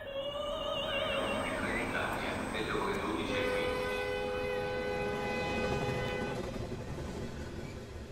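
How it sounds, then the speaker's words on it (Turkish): Passenger train on the rail journey from Rome to Naples, a loud steady rolling rumble with wavering horn-like tones sliding up and down, continuous throughout with no clear voices. "Roma, Napoli tren yolculuğu."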